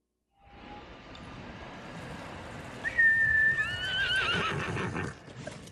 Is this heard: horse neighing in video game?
yes